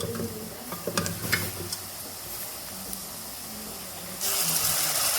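Onion and masala fry for biryani with a continuous soft sizzle and occasional stirring scrapes and clinks, the hiss swelling louder toward the end.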